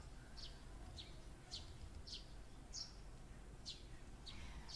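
Short high bird chirps repeat at irregular intervals, faint and somewhat distant over a steady low background rumble.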